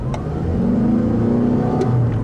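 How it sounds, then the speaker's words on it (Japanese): A Toyota RAV4 Hybrid accelerates hard from a stop, its engine note rising steadily and loud from inside the cabin for a couple of seconds, with no talking over it. "おお、40キロまで、すぐ加速しました。 エンジンもね、ぐーんとね、パワーが上がりましたね。"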